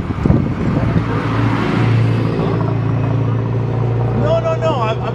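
A Porsche drives past on a road, its engine a steady rumble rising and fading, with people talking excitedly over it.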